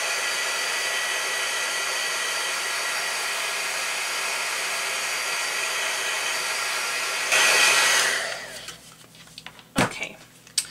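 A hair dryer blows steadily on a painted art journal page, a loud continuous whoosh for about seven seconds that then cuts off, leaving a few faint handling bumps.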